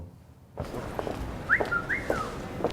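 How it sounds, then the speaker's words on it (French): Rugby figure Bernard Laporte whistling the Marseillaise, a short melodic whistled phrase rising and gliding over a steady murmur of background noise, moderately close but not loud. "Bernard Laporte aurait sifflé la Marseillaise"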